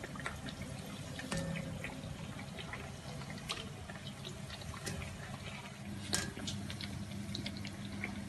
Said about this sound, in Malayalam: മീഡിയം ഫ്ലെയിമിൽ വെച്ച് ഫ്രൈ ചെയ്തെടുക്കാവും.